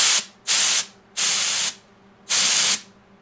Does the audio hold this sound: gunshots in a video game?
no